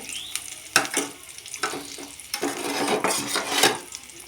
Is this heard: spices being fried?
yes